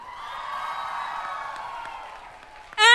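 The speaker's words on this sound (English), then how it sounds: "Round of applause, everyone." Audience applause and cheering at an FMA India centenary celebration, a steady crowd of clapping that swells and slowly fades over a few seconds before a sudden loud burst at the end.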